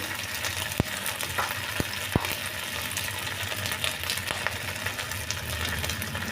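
Turmeric powder, salt and vegetables sauté in a hot pan with a soft, continuous sizzle. A few sharp clicks of a utensil against the pan break through it.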